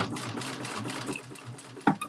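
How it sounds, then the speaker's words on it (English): A sewing machine runs steadily, stitching straight across a seam, in a soft, close, continuous whir with a brief sharper clack near the end. "I'm just going to sew straight across."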